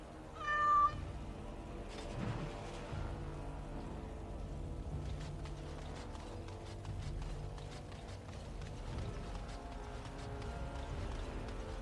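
A kitten in the video game Dragon Age Origins Awakening gives a brief high meow at the start, followed by a dense background of game ambience and music.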